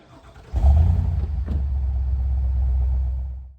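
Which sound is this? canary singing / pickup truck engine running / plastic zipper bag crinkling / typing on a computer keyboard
pickup truck engine running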